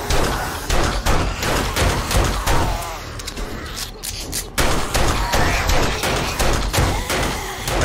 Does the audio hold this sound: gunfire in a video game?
yes